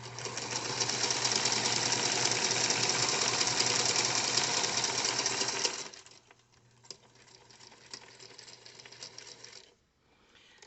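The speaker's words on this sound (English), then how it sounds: "I'm in the habit of doing a back stitch on all the corners." A sewing machine runs steadily for several seconds, back stitching a pocket on a crossbody purse, then stops abruptly, leaving quiet handling noises and a low hum.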